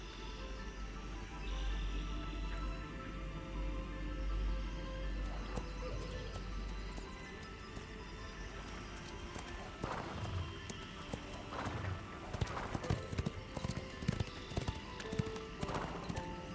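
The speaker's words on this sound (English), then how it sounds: "I'm trying to figure out how to make the most annoying noises using the horse" Horse hooves clip-clop steadily in the Ashes of Creation fantasy game, with a whinnying neigh early on and sharper, irregular hoof strikes later, all over a constant low ambient game rumble.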